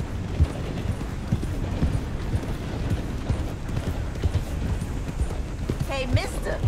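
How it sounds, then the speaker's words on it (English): Horse hooves clip-clopping in Red Dead Redemption 2, a steady run of close hoofbeats at an even gait, with a whinny near the end and someone speaking over it. "That's one nice looking horse you got there."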